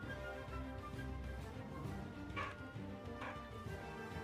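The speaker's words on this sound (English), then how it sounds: "I apologize if you can hear my dog barking." A dog barks faintly in the background, two short muffled barks partway through, set against a steady low hum of room noise.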